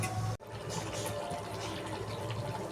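Water pours steadily into a pan of fish set to simmer, a continuous close splashing fill with a brief break early on.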